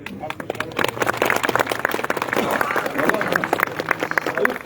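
Crowd applause at an opening ceremony for a sugar company's regional service building and farm market, dense rapid clapping throughout with a murmur of voices mixed in.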